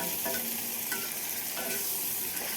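Spices and green chillies fry in oil in a pan with a continuous close sizzle and crackle, a few soft stirring knocks breaking through, no voices.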